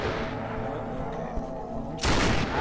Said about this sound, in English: My rifle has infinite ammo, but, like, the thing is, my, the sound of my gunfire is attracting more zombies